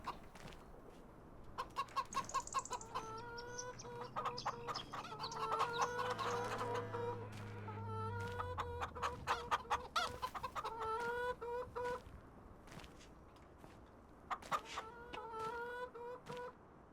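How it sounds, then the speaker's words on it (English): Several chickens cluck and call steadily in a farming survival game, with rhythmic bursts of clucking that pause briefly and then resume, clear and fairly close, with no talk. "Chickens are doing good."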